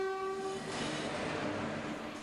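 A train at Erode railway sounds a loud, sustained horn, then rushes past with a dense, steady roar of wheels and carriages, close and overwhelming.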